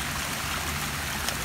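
Water runs over a mini waterfall beside toy monster trucks, a continuous close, loud rushing and splashing flow with no talk.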